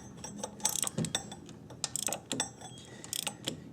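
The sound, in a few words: ratchet tightening power steering pump bolts, Honda Odyssey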